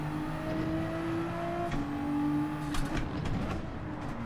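A Toyota Supra race car in Gran Turismo 7 drones along with a sustained engine note that shifts pitch as it changes gear, with other cars' engine noise layered faintly behind; no voices.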